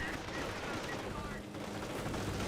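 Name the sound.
strafing run gunfire in Company of Heroes video game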